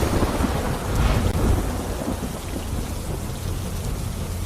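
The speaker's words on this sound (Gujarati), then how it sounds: "ભારે વરસાદ જોવા મળી રહ્યો છે" Heavy monsoon downpour pounds steadily across a village in Gir Somnath, Gujarat, with deep thunder rumbling through the rain, swelling loudly around the one-second mark and then easing into a continuous roar.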